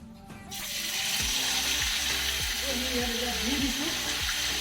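Sunflower oil sizzles and fries steadily in a pan for a home-cooked Sunday chicken dish, a broad hiss beginning after a brief quiet start, with clinks and a stirring sound and a voice speaking over it.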